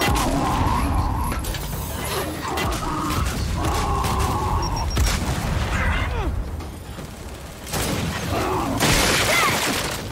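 Grenade explosion in Gears 5 amid combat: loud blasts and shattering debris mixed with gunfire, mechanical clatter and rumbling over a dense, noisy battle soundscape.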